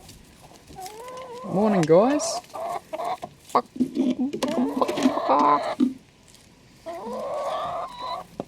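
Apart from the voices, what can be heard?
chickens clucking in a chicken run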